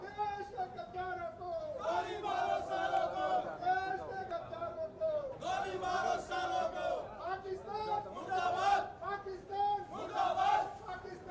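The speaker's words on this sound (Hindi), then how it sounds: "ये कोर्ट के बाहर तमाम अधिवक्ता पाकिस्तान मुर्दाबाद के नारे लगा रहे हैं।" Lawyers outside a court chant 'Pakistan Murdabad' slogans, a crowd of voices shouting in repeated rhythmic waves, moderately distant with chatter between chants.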